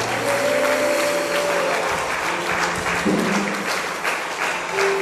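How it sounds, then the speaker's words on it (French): A church congregation applauds steadily through a worship service, with sustained clapping filling the room and a faint voice or hum over it. "nous acclamons le Saint-Esprit."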